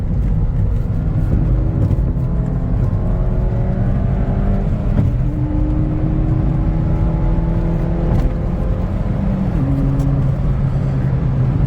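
A 115k-mile Ford Fiesta ST accelerates in third gear, heard from inside the cabin as a loud, steady engine drone whose pitch climbs continuously, with no talking.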